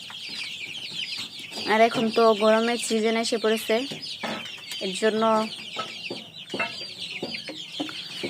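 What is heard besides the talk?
chickens clucking in a poultry shed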